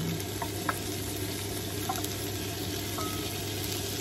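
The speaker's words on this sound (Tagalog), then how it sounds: "lagyan po natin additional konti ng oil. Ito na po, ihalo na natin ang bacon." Sliced bacon fries in oil in a pan for fried rice, giving a steady, close crackling sizzle with a few brief clinks and stirring scrapes throughout.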